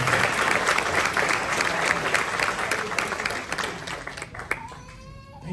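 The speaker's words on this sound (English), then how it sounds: "So a round of applause for all the accomplishments and the whole team contributing to those successes." Guests at a lacrosse team banquet give a round of applause, steady dense clapping that gradually thins out and fades into murmuring room noise.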